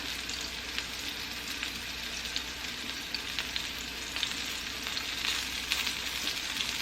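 Meat browning in a frying pan, a constant loud sizzle with scattered crisp pops and spits throughout, close up and without speech.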